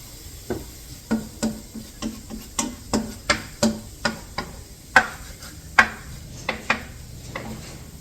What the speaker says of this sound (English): And then don't forget to stir.